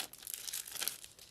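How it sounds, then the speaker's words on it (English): Plastic wrapping being pulled off a board game card deck, a brief burst of close, crisp crinkling and rustling. "let's see if we can get this deck open"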